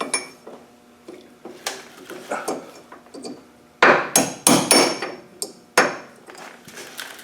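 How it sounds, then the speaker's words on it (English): Repeated sharp metallic hammer strikes drive a chisel into metal on a worn Land Rover 90, coming in irregular bursts with clinking between blows, close and fairly loud. "hopefully we can get a chisel in there"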